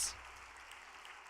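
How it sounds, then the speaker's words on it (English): Audience applause at a church gathering, a steady wash of clapping that fills the short moment evenly without any talking on top. "Let us offer them a great round of applause."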